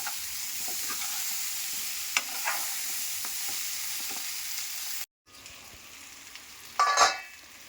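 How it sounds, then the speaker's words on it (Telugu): Drumstick pieces sizzle and fry in a pan with steady crackling and occasional stirring scrapes, briefly cut off then resuming with a louder burst; close and without talk. "పైన మూత పెట్టేసి మంచిగా వేగనివ్వాలండి ములక్కాడని కూడా"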